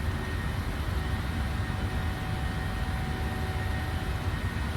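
A PMDG 737-800 airliner in WestJet livery climbs out after departure in Microsoft Flight Simulator, its jet engines a steady, dense roar that holds evenly throughout with no voices.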